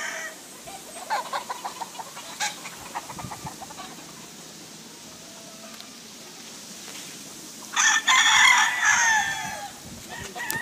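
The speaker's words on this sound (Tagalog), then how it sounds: "Siguro mga more or less, mga nasa 30 mahigit yung manok dito." Around 30 to 40 chickens on a poultry farm cluck and call throughout, with a rooster crowing loudly partway through over a quiet outdoor background.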